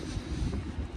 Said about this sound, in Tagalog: Medyo lakas na hangin ngayon, grabe.